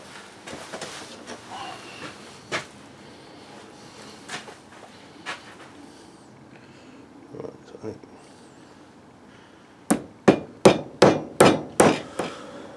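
After a stretch of quiet shuffling and scattered knocks, a run of about nine sharp, evenly spaced hammer blows rings out close by, driving an axe head down onto its wooden handle.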